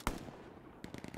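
Nearby gunfire in Hell Let Loose: one sharp close shot followed after a pause by a quick burst of rapid cracks, fairly faint overall with no talk.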